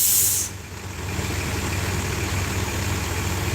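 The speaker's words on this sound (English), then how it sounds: "Man, that truck's loud." A truck engine idles loud and close with a steady low rumble, opening with a brief sharp burst of air brake hiss that cuts off after half a second.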